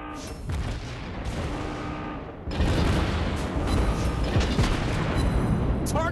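Naval guns firing in the World of Warships Blitz video game aboard the USS St. Louis, a steady rumble of gunfire that jumps to a louder, heavier barrage partway through and keeps booming to the end.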